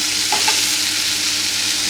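Shrimp frying in a pan with milk-based masala, a steady close hiss and sizzle with light stirring, no talking.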